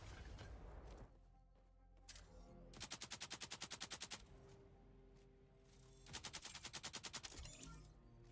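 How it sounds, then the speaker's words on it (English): A submachine gun fires in a video game in two rapid bursts of sharp, evenly spaced shots, each lasting about a second, with mechanical clicks and quieter game sounds between, close and without talk. "Love that SMG you're using."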